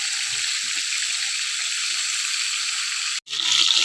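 Pork sizzling in a pan for afritada, a steady bright hiss that breaks off for a moment near the end, then resumes louder.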